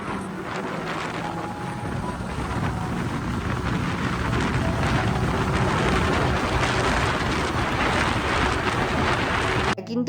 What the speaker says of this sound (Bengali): এখন আমরা যাব ওয়াটার রাইড করতে